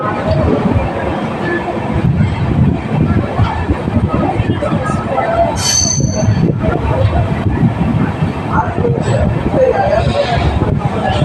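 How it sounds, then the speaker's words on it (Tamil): An Amrit Bharat Express special train rumbles into a station platform on its inaugural run, with steady low clatter and brief squeals of wheels, while crowd chatter murmurs throughout. "Special train will arrive on platform"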